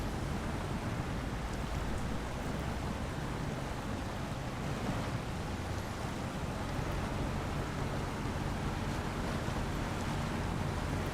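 A heavy truck in SnowRunner fords a river, a steady churning wash of water and rumbling low engine noise running throughout at constant loudness, with no voices.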